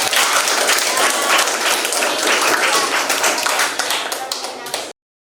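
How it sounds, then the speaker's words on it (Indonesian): Sustained applause from a room full of people, loud and steady for several seconds before cutting off abruptly. "kita kasih tepuk tangan"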